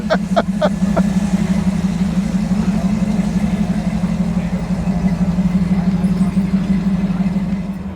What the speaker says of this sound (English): we got the Datsun with a small block Chevy with headers